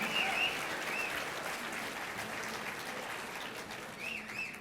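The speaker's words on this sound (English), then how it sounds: "Let's give them an applause." Audience applause at a pro-life media event, a broad sustained wash of many hands clapping at moderate distance, fading slightly toward the end with faint whistles and cheers above it.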